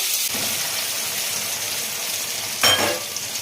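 Pieces of taro fry in hot oil in a pan for a Bengali koi fish curry, a steady close sizzle with a brief louder crackling surge near the end.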